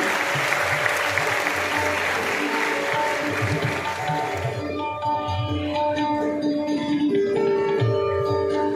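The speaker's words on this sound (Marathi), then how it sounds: "टाळ्यांचा ओघ असा सुरूच राहिला पाहिजे शेवटपर्यंत अगदी।" Applause from an audience at a district administration felicitation ceremony for successful competitive exam students in Amravati, full clapping for about four and a half seconds, then thinning out, with a sustained musical tone lingering beneath.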